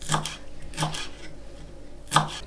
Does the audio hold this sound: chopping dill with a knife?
yes